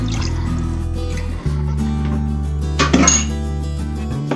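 Vinegar pours into a pressure cooker with a brief liquid splash and trickle, close and fairly loud over a steady low hum, a short clink near the end.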